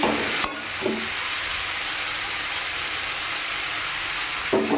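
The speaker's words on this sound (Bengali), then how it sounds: "ডুমুর দিয়ে আলু দিয়ে ভালো করে কষিয়ে নিচ্ছি।" Figs and potatoes sizzle steadily as they are sautéed in a pan, a dense continuous frying hiss broken by a few brief clinks of a spatula near the start and end.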